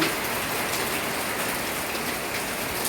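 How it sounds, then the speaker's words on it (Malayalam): Heavy rain pours steadily outside, a dense, even hiss of drops on surfaces that holds at a constant level throughout with no voices. "അപ്പോൾ പുറത്തൊക്കെ നല്ല മഴ പെയ്യാണ്."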